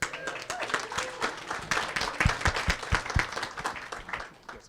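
An audience claps together at a closing and prize ceremony, a dense burst of loud, quick handclaps close to the microphone with some voices mixed in.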